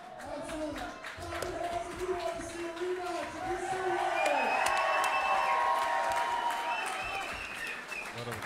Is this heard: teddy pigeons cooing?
no